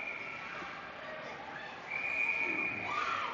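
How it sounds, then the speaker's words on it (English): A referee's whistle sounds at a peewee youth ice hockey game, a shrill sustained tone rising over hollow rink ambience partway through, with a fainter second tone near the end. "We've got a whistle."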